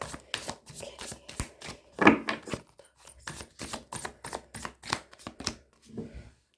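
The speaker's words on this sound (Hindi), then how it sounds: "2 कार्ड्स नीचे भी गिर गए थे, इनको हम दोबारा से शफल कर लेते हैं।" Tarot cards are shuffled by hand in a series of close, crisp riffling bursts and taps, a rapid irregular rhythm of snaps with brief pauses between them.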